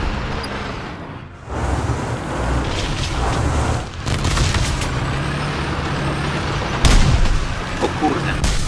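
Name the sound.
bomb explosion in the video game War Thunder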